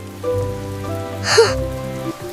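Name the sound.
rain falling in a cartoon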